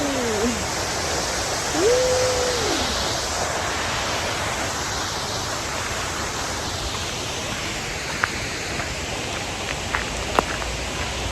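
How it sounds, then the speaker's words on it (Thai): Steinsdalsfossen waterfall in Norheimsund, Norway, roars as a steady, loud, broadband rush of falling water close by, with a few faint clicks and a brief tonal sound early on. "ชมความงามของน้ำตกสเตียนดอลฟัสกันไปค่ะ"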